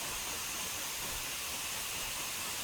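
Steam exhaust from a J70 tram engine in a train simulator game forms a constant, even hiss with low rumbling beneath, steady throughout and without voices.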